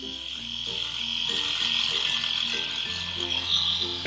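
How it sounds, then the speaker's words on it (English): A toy electric toothbrush from a Shimmer and Shine playset buzzes steadily and close, a continuous whirring hum that wavers slightly, with a faint electronic melody running underneath. "All right, let me get that turned on."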